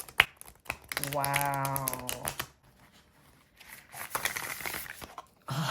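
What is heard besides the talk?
shuffling a tarot card deck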